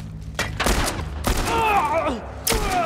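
Gunfire from a revolver during combat in The Last of Us Part I, several sharp shots spaced across the moment amid game sounds, with talk audible in the clip.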